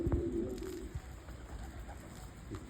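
Turkish Filo fancy pigeons in a loft give a short low coo near the start, then quiet rustling and faint background noise follow.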